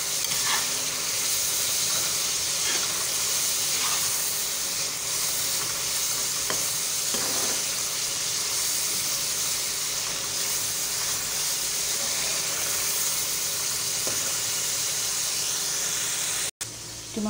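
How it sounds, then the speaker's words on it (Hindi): Tomatoes and onions fry and sizzle steadily in a pan, with occasional stirring scrapes, a loud continuous hiss that runs unbroken throughout with no talking. "हमने इसमें प्याज के साथ ही पैन में ऐड कर दिया है और हम इसे अच्छे से इसकी भुनाई करेंगे"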